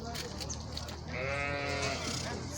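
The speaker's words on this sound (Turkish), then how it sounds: "Körpe kuzu diyebiliriz bunlara." Young Merino lambs bleat at a busy livestock market in Torbalı, İzmir, a loud, wavering cry rising over crowd noise with people talking nearby.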